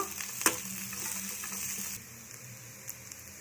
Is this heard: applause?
no